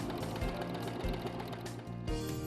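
A Brother 1034D serger runs steadily while sewing off a thread chain, its rapid mechanical chatter continuous and fairly close, with a brief dip in the rhythm near the end and no talking.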